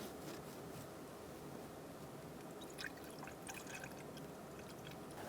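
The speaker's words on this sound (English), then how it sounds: "Set it aside and begin to fill up your coolant." Coolant poured into a Ford Focus radiator reservoir, a faint continuous liquid trickle and gurgle close by, steady for a few seconds without talk.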